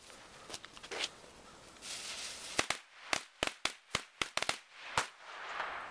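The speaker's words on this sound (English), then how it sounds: "here goes a couple firecrackers in the snow" A few firecrackers set off in snow burst in a quick irregular string of sharp, loud cracks, preceded by softer rustling and shuffling.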